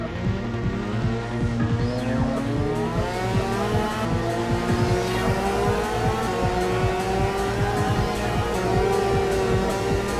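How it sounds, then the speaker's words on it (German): Yamaha motorcycle engine in the PS2 game MotoGP, racing at high revs: a loud, continuous, whining engine drone with shifting pitch, steady throughout with no speech. "Scheint, als ob das Teil einen Yamaha-Motor drin hat."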